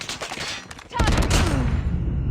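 Video game gunfire in a shooter, with a dense burst of close, loud shots that rises into sustained rapid fire, no talk.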